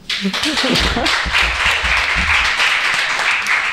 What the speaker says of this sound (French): on peut applaudir quand même